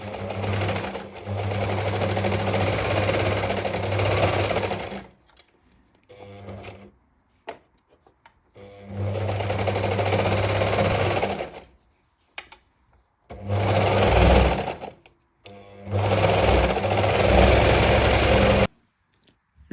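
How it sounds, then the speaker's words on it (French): An overlock serger stitches cotton boxer shorts fabric in three loud, steady whirring runs, each a few seconds long, separated by short quiet gaps with small handling noises and no talk. "On coud ici et ici à la surjeteuse."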